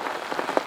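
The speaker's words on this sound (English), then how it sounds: "And yeah, raining again." Heavy rain falling steadily at a lake, a dense, even patter on surfaces with a few slightly sharper drops, close and fairly loud.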